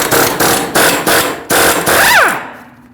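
Repeated close, loud bursts from a power tool spinning off a 30mm 12-point socket on a front axle nut of a 2006-2015 Lexus IS250, about five short hits in a row, ending with a brief whine and fading hum.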